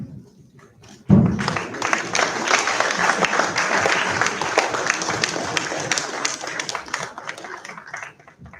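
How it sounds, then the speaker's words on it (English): Applause from the audience at an inaugural session of a conference at IMI Bhubaneswar. It starts sharply after a second of quiet, then holds as sustained, dense clapping before tapering off at the end. "A big round of applause for our dignitaries"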